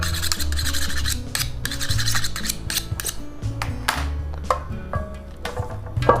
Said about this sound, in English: we're going to trim the leg that we have here. You want to use a really sharp knife for this.